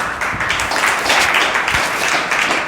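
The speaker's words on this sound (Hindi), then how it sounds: "जोरदार ताली बजाओ।" A church congregation bursts into loud, sustained applause, dense clapping filling the whole moment without pause.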